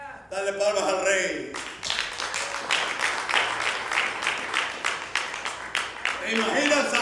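A church congregation claps for the king during worship, a dense run of steady, rhythmic handclaps after a voice speaks at the start and fades back in near the end.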